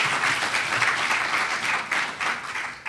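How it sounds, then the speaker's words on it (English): At a political conference session on green-collar jobs, an audience breaks into brief, full applause, dense clapping filling the room steadily for a few seconds. "So give them a round of applause."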